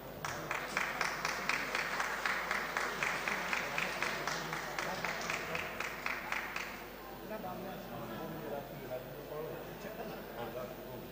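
Seminar audience at a college clapping in a rhythmic, evenly spaced unison beat for several seconds, then fading into a murmuring room with quiet talk.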